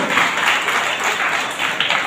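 An audience applauds steadily at a religious gathering marking 31 years of a daily yajna, a dense wash of many hands clapping at moderate loudness without pause.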